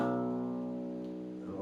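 Low open sixth string on an electric guitar rings out after a down-up strum in a guitar lesson, a sustained close tone that fades slightly with a faint second attack near the end.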